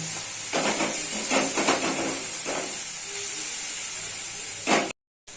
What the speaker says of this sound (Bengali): তো এরকম ভাবে ভালো করে কষিয়ে নিচ্ছি